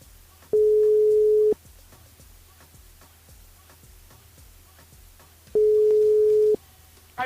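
A telephone ringback tone while calling back a radio listener: two long, steady single-pitch beeps about five seconds apart over a faint ticking background, clear and near.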